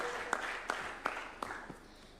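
Scattered claps ring out at a judges' swearing-in ceremony at State House in Nairobi, a few sharp isolated hand claps spaced about a third of a second apart over a low room murmur, fairly quiet.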